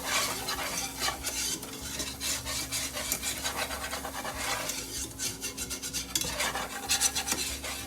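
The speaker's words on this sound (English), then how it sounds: "1 tablespoon of butter, 1 tablespoon of flour. I'm just going to whisk this in." A whisk scrapes rapidly and rhythmically through butter and flour in a pan, with a soft sizzle underneath; close and fairly loud, no voices.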